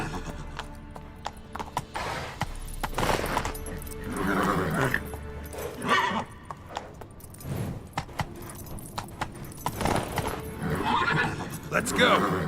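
Roach the horse in The Witcher 3 gallops with rhythmic clip-clop hooves and lets out repeated neighs, loud and close, while a voice speaks over the action.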